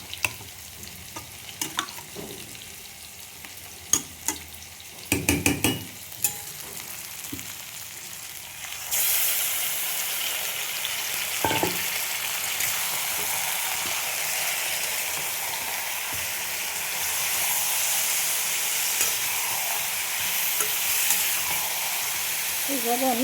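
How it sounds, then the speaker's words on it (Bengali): Chicken and vegetables sauté in a pan with mint and coriander chutney, scattered scraping stirs and clinks giving way to a loud, steady sizzle that fills the rest of the stretch. "এইভাবে আমি কষিয়ে দেবো মাংস"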